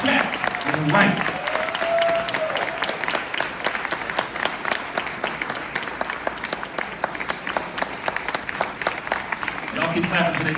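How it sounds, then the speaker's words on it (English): Loud, sustained clapping from an event audience at a jazz gala in Miami, greeting a young man from Big Brothers Big Sisters. Crisp individual claps stand out within the crowd, and voices and cheers rise at the start and end. "Y'all keep clapping till they stop hugging."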